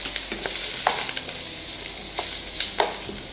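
Sliced leeks and onion sizzle in a hot pan as they are stir-fried, with a steady close crackle and several sharp scraping stirs of the spatula against the metal.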